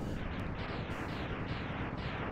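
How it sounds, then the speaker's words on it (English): Dense, loud run of explosions from the Mega Man X video game, several overlapping booms in quick succession with a steady roaring rumble and no talk over them. "I love some explosions."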